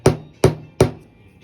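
A hammer taps a hydraulic cylinder seal into place during a Cat 426 Series II backhoe cylinder rebuild: three light, evenly spaced metallic knocks, close and clear with no talk.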